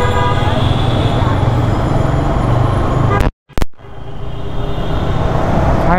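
Road traffic moving again after a jam clears, heard from a motorcycle: a loud continuous engine and road roar with horn toots, a brief cut-out near the middle, then the rumble builds back up.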